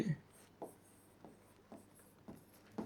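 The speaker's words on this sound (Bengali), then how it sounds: "আমি এখানে দুটো সেন্টেন্স লিখি" Chalk or marker writing sentences on a board, a few short faint strokes spaced roughly every half second in a quiet room.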